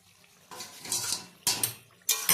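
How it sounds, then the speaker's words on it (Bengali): A metal lid comes off a wok in a few clanking bursts, with sharp metallic rattles and a softer scrape in between and quiet moments between the hits. "10 মিনিট পর কড়াইয়ের ঢাকনা খোলা হলো"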